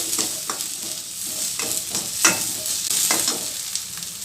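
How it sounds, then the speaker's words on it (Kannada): Crushed ginger and garlic fry in a hot pan with a bright, steady sizzle, punctuated by repeated spatula strokes and scrapes every half second or so as the mixture is stirred, no voices. "ಈಗ ಶುಂಠಿ ಬೆಳ್ಳುಳ್ಳಿ ಜಜ್ಜಿರೋದು ಎಲ್ಲ ಚೆನ್ನಾಗಿ ಫ್ರೈ ಮಾಡಬೇಕು"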